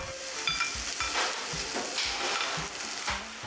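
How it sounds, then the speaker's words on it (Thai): Beef and rice stir-fried together in a pan for a Pepper Lunch–style cheesy pepper rice, with steady sizzling and the rhythmic scrape and toss of a utensil every half second or so, close and loud. "เราก็ผัดตัวเนื้อใส่กับข้าวให้สุกนะคะ"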